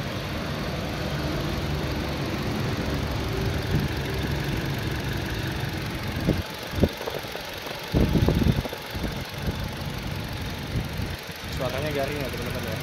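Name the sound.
Toyota Innova 2008 manual diesel engine idling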